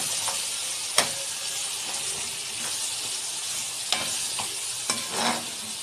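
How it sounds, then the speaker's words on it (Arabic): A spoon stirs tomato paste through a pan of sizzling, frying food, with a steady hiss and a few scraping knocks against the pan, close up. "اهو حطيت معلقه واحده صلصه وهقلبها اهو"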